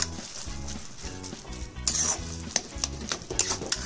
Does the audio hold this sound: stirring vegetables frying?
yes